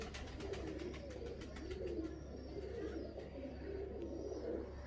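A pigeon with a respiratory infection coos softly and repeatedly while it is handled for an injection, low rolling calls over a constant background hum.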